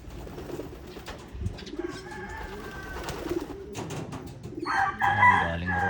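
Racing pigeons coo and flutter near the loft as they return from a flight, with bird calls and soft cooing layered through, a brief rooster-like crow near the end, and no talking.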